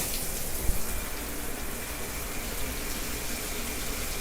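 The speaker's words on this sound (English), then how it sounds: "Turn the shower on." A bathroom shower running during a home inspection, a steady close broadband rush of spraying water, loud and unbroken throughout.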